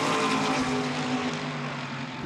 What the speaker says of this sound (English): The deep basso rumble of the Mercedes as it starts a flying lap